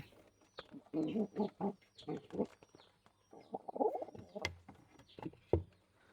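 Pigeons coo repeatedly nearby, a series of low, throaty rolling calls in uneven bursts with short pauses between them.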